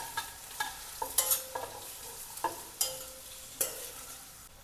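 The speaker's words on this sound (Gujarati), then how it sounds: "તેને આપણે મિક્સ કરી લઈશું।" Pointed gourd and potato curry being stirred in a pan, with a spoon scraping and clacking in irregular strokes over a soft frying sizzle, close and fairly quiet with no talking.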